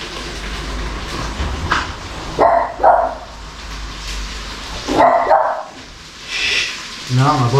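A dog barks several times in short, sharp bursts, with a few higher yips, close by over a steady background hum.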